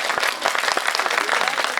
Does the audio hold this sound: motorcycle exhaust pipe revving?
no